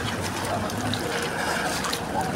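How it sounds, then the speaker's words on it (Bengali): Rainwater flowing and collecting on low ground near the Kaaba in Makkah: a steady, close trickling and splashing that continues without a break for the whole short stretch. "আর এদিকে পানিগুলো আসতেছে, ওই জায়গাটা নিচু, জমে যাচ্ছে পানি"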